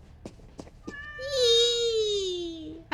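A cat in the video game What Comes After gives a long, drawn-out meow after a few soft clicks, clear and close, with a faint voice in the background.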